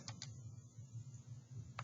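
Keystrokes on a computer keyboard while entering a sphere-volume formula into a math editor, a few faint separate taps at the start and end over a steady low hum, with no talking.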